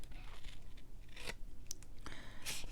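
Scissors trim paper for a journal cover in a few quick crisp snips with short rustles between them, close and fairly quiet.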